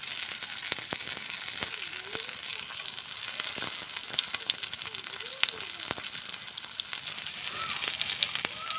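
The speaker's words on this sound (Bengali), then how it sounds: "মাছটা আমি খুব অল্প আঁচে ধীরে ধীরে ভেজে নিচ্ছি" Ayala fish (mackerel) fries slowly in a pan over a low flame, giving a soft, continuous sizzle dotted with small crackles and pops. A faint voice is heard now and then.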